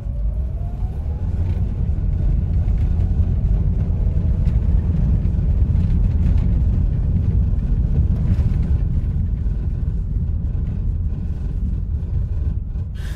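Interior of a 2019 Mitsubishi Xpander Exceed with a 4-speed automatic, cruising at high speed: a loud, steady broadband rumble of road and wind noise with a low engine drone, continuous throughout with no talk.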